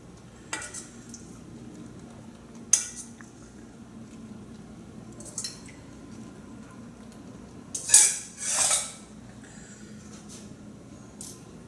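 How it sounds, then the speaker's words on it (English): Vinegar spooned over a cucumber salad, with scattered metal spoon taps and clinks against a bowl, then a brief wet scrape and splash near the end, close and moderately loud with no talking. "We'll spoon in some of the vinegar"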